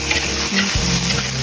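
Garlic stir-fries in a wok with morel mushrooms, giving a loud, continuous sizzle and crackle right up close while a spatula stirs and scrapes.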